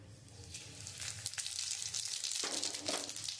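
Two dried red chillies and a bay leaf crackle and sizzle in hot white oil in a wok, a steady close hiss with brief spitting pops throughout.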